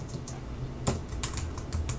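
Fingers typing on a computer keyboard while text is entered in Photoshop: a quick, uneven run of close, crisp key clicks with one louder stroke near the middle, and no talking.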